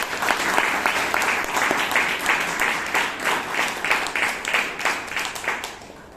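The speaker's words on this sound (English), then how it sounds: "please applaud" Audience applause fills a Toastmasters club meeting in Bangalore, a steady crowd of hands clapping at close range with rhythmic surges, no voices breaking through.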